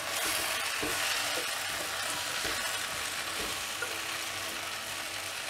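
Eggplant and drumstick pieces sautéing with salt in a mud pot, with a steady broad sizzle and occasional soft scraping knocks from stirring, close and continuous.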